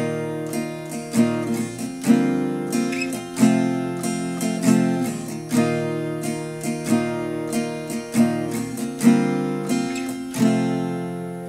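Strummed guitar chords in the pattern for a song, a steady rhythmic run of down and up strokes with regular accents over about eleven seconds, clear and close with no talking.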